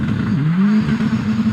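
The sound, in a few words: OMS 28 hillclimb car with 750cc turbocharged Kawasaki engine revving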